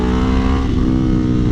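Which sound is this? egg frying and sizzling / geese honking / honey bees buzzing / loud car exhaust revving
loud car exhaust revving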